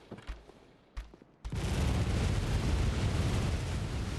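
Enemy gunfire in the Bloodborne video game: after a couple of isolated sharp shots, a loud, dense barrage of shooting erupts and roars on continuously.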